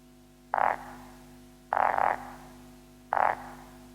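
Three loud, raspy frog croaks spaced about a second apart, each a short rattling burst over a steady low hum.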